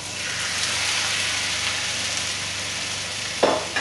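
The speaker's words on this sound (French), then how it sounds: "Lorsque les oignons commencent à brunir, on peut rajouter la viande." Browning onions fry with a steady, close sizzle in a pan, with meat tipped in for Chinese noodles; a short clatter near the end marks the addition.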